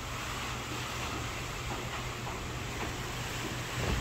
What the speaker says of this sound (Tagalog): At malakas pa ang ulan saka ang hangin.